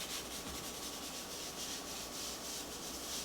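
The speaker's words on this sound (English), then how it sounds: "You can actually hear the spots where it's not good because it makes a little bit more of a noise with this little bristle brush." Small bristle brush scrubbing baking soda paste across a glass stovetop, a quiet continuous scratchy rubbing with rhythmic back-and-forth strokes, close and alone.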